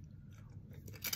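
Someone chews a hard, crunchy pork skin snack, making faint, steady mastication and crunching noises close to the mic.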